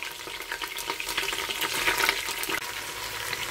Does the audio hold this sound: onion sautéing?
yes